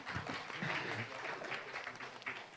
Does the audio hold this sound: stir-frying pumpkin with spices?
no